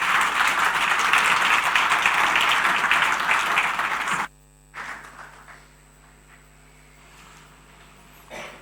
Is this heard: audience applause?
yes